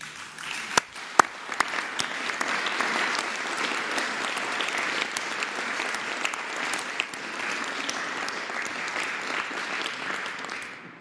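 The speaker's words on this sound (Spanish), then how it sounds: "vamos a aplaudirle a las niñas y a los niños." A room full of people at a Mexican presidential morning press conference applauds children, a few sharp, close claps opening into sustained, even applause.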